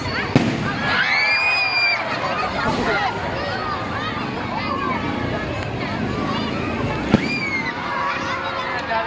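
Fireworks pop and crackle on the eve of a fiesta in Tanauan City, with whistling rises and a couple of sharp bangs, heard amid a crowd chattering nearby.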